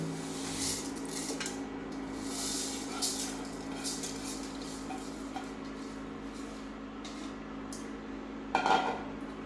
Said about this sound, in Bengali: এখন আমি চালগুলো ঢেলে দেব।